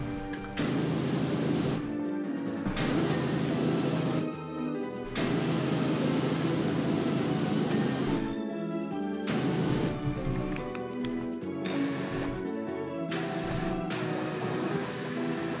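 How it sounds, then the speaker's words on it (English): A pressure washer sprays in bursts in PowerWash Simulator, a loud broadband hiss that runs for several seconds and stops in short gaps, with no talking. "I might be just spraying too fast."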